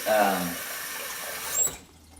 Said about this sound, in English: I'm going to soak it in the hot water, in the warm water